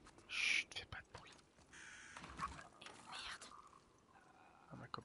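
A few harsh crow caws from a flock in The Last of Us Part II, one sharp burst close and loud, then softer scattered calls under a quiet whispering voice and faint ambient noise.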